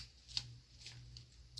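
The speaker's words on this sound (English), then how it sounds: "go around where I want to rip the napkin" A paper napkin, dampened with a water brush along the line, torn by hand for a shabby chic envelope craft: faint, soft tearing rustles in two brief bursts over a low hum.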